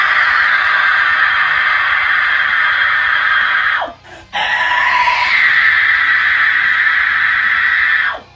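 A person demonstrates a high scream vocal technique with two long, loud, sustained piercing screams. They are separated by a brief breath pause, and the second scream shifts pitch slightly midway before cutting off.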